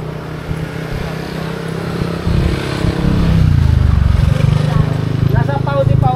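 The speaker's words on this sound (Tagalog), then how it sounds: "May motor." A motorcycle passes close by, its engine rising from a low rumble into a loud, steady putter, with people talking over it.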